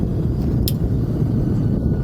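A Honda VFR800 motorcycle rides through city streets, its engine a steady low rumble mixed with wind noise, close and continuous.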